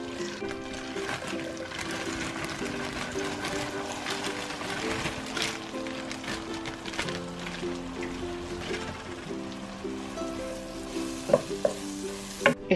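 A stick of butter melts and sizzles in a saucepan, a steady soft frying crackle with light stirring and occasional clinks of a utensil against the pan.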